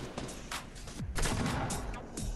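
Gunfire in the video game Fortnite: loud, rapid bursts of shots, close and overlapping, with brief pauses between volleys.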